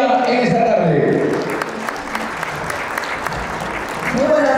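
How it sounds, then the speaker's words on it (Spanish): Applause breaks out for a speaker at a wedding, a burst of clapping that swells and fades while someone speaks over the start and again at the end. "Aplausos para ella en esta tarde."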